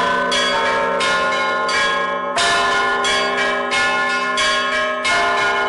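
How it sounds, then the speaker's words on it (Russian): Newly consecrated church bells rung by the temple's bell ringers, loud overlapping peals with several strikes in a steady rhythm, rich ringing tones sustaining throughout with no talking. "Нужно равномерно ударить по этим тросикам, и тогда колокола начнут петь."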